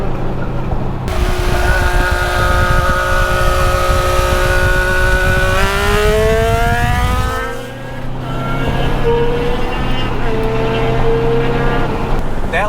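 Quad turbo street bike engine revving hard up close, a loud sustained roar that climbs in pitch, drops briefly, then rises again with a steady high whine from the turbos.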